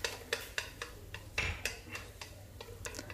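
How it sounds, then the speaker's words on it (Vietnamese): Minced garlic frying in oil in a pan while being stirred, a utensil scraping and tapping the pan in a steady rhythm of sharp clicks over a soft background, close and fairly quiet. "Trong lúc mình phi thì mình đảo đều lên nha quý vị, để cho tỏi nó sẽ vàng đều lên."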